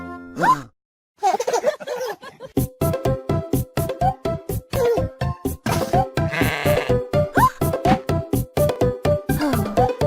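Sheep bleat loudly again and again in a steady, bouncy rhythm, the bleats set against a repeating beat like a playful nursery tune.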